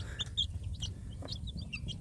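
Newly hatched free-range village chicks kept together with older chicks in a box, chirping and clucking in short scattered high calls over a steady low background hum.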